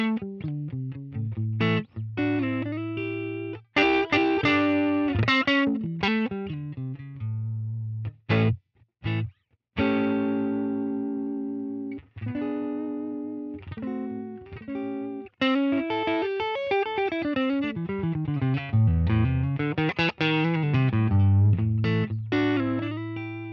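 Tele-style electric guitar on its neck pickup, played through a Fender Deluxe amp model on a Helix unit: clean, loud single notes and chords with ringing sustain and short pauses, heard alone.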